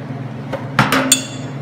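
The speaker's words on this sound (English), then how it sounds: "make some cuts, push it down with my hammer like I showed you" A few sharp hammer strikes on a metal car fender panel, three quick knocks in succession over a low background hum, close and fairly loud.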